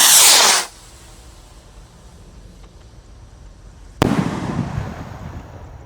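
Roket Mars firework rocket: a loud hissing whoosh as it launches, fading into quiet crackle, then a sharp burst explosion at about four seconds followed by a sizzling, crackling tail.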